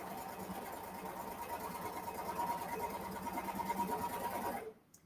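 A serger sewing machine runs steadily while gathering fabric for a ruffle dress, a close, even mechanical whir with fine rapid stitching rhythm that holds for several seconds and then cuts off abruptly.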